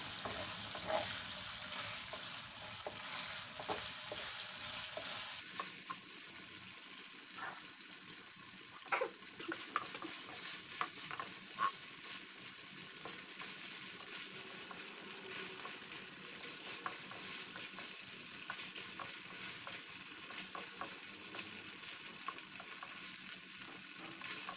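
Marinated pork belly frying in hot oil, a steady loud crackling sizzle with scattered pops throughout, quieter at first then fuller, close and continuous with no voices.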